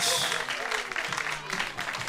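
A home crowd at a baseball game applauding a called third strike, a broad wash of clapping and cheering at moderate distance, with an announcer's voice talking over it.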